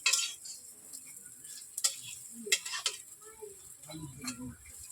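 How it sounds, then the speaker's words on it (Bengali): Raw banana fritters frying in hot oil in a wok, a faint sizzle under a few sharp clinks and scrapes of a spatula against the metal as they are turned, close and with no talking. "বড়াগুলো কড়াই তেলের মধ্যে ছেড়ে দিয়েছি"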